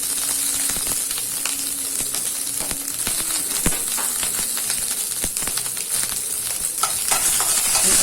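Okra fries in coconut oil with a constant bright sizzle while a utensil stirs it, scraping and clinking against the pan at irregular moments, close and steady throughout.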